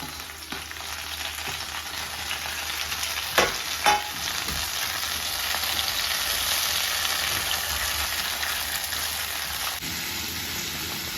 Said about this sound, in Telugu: ముక్కలన్నీ ఇలా నూనెలో వేసేసుకోండి ఇలా నూనెలో వేసుకున్న తర్వాత బాగా మగ్గ పెట్టుకోవాలి